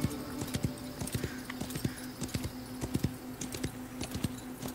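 Hooves of a horse galloping fast in the Wild West Online video game, a quick rhythmic clip-clop at moderate volume, heard alone over a faint steady hum.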